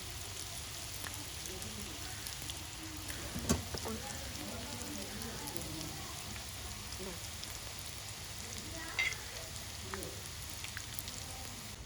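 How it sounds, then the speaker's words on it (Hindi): Malai tikka wontons shallow frying in hot oil give off a soft, continuous crackle and patter, fairly faint, with a couple of brief clinks of handling. "अब इसमें हम हमारे मलाई टिक्का वॉन्टॉन्स को डाल देंगे। हम इनको डीप फ्राई नहीं कर रहे हैं, हम इनको शैलो फ्राई करेंगे।"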